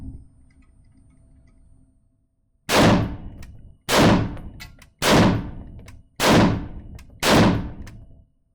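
An EM-2 rifle fires five loud single shots at a steady, unhurried pace, each crack ringing out and decaying before the next, after a quiet stretch of low background noise.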